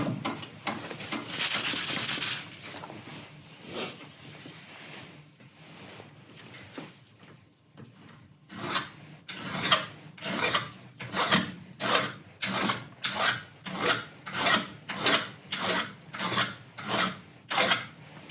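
A hand file with a golf ball as its handle rasps a burr off a metal part of a TW200 motorcycle. Irregular scrapes come first, then a brief pause, then a run of about a dozen regular, rhythmic strokes, close and clear, with no talking.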